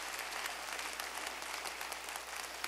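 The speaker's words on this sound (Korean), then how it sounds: "박수 한번 해야 돼." An audience gives sustained applause during a Sunday gathering, with even, continuous clapping over a faint low hum throughout.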